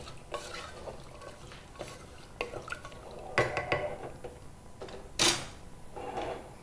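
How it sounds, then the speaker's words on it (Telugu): A spoon stirs carrot pieces and moong dal in water inside a cooking pot, with scraping, clinks against the metal and wet swishes coming in irregular bursts, close and moderately loud. "నీళ్లు పోసిన తర్వాత బాగా కలపాలి."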